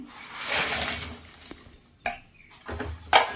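Pieces of cooked chicken drop into a pot for pickle, giving soft clatters and scrapes of a utensil against the vessel, with a few sharper clinks toward the end, close and fairly quiet.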